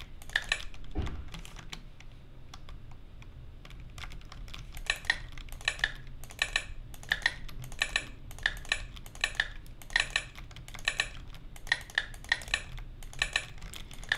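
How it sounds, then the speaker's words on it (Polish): Computer keyboard typing picked up by a nearby microphone, bursts of crisp key clicks in an uneven rhythm with short pauses between runs, quiet and close with no talking. "Pewnie słyszycie klawiaturę, jak w nią pykam, ale no trudno."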